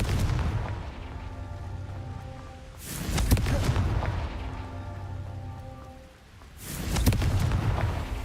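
Confringo blasting-spell explosions go off in Hogwarts Legacy: two loud, booming bursts a few seconds apart, each rumbling out over a constant rain-like background.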